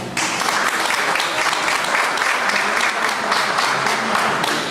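An audience gives a strong round of applause after a presentation, with dense, even clapping starting abruptly and holding loud and steady to the end.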